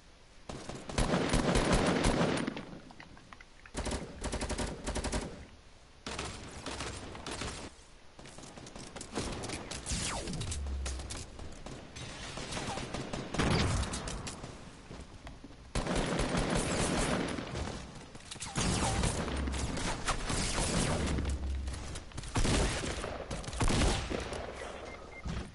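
Automatic M4 rifle fire in a multiplayer shooter game: repeated long bursts and sporadic shots, loud and close, with dense overlapping gunfire and only brief gaps.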